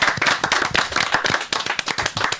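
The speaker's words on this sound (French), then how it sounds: "Ici, je vous demande d'applaudir chaleureusement." Studio audience at a French television variety show applauding warmly, a dense, sustained wash of many hands clapping close by, steady throughout with no voices.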